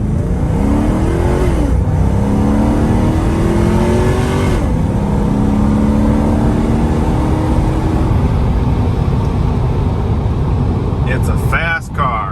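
A supercharged 1990 Porsche 928 S4 engine revs and accelerates hard from a standstill, its pitch sweeping upward through the gears, loud and close, with brief talking over it.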